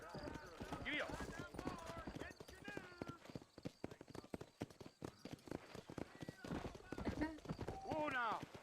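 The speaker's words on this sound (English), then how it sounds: "let's mount up and hit the trail" Horse hooves clip-clop in a steady walking rhythm in the Red Dead Redemption video game, heard under frequent character dialogue.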